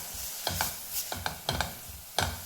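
Onions with turmeric sauté in a pan while a spoon stirs them. About five rhythmic scraping strokes sound up close over a faint sizzle, with no talking.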